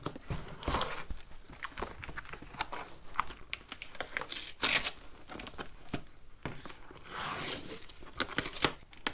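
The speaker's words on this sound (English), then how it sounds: "Let's open the box and see what we got." Cardboard and plastic packaging around a replacement water pump for an LT1 engine is torn and crumpled open, with steady close crinkling, ripping and rustling bursts throughout, and no voices.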